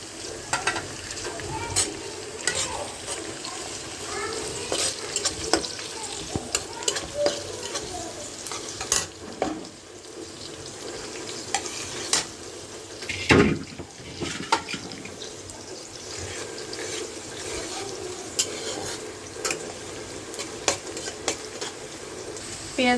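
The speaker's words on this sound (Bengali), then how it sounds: "পেঁয়াজগুলি আমার প্রায় ভাজা হয়ে এসেছে" Onions fry in a pan with cardamom, cinnamon and bay leaf for a chicken curry, a continuous close sizzle broken by frequent scraping stirs and knocks of a spoon against the metal.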